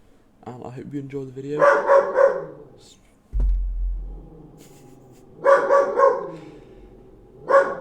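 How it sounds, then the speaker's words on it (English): A dog barks in short bursts, several loud close barks spaced a few seconds apart, with someone talking in between. "That's my dog telling you to subscribe"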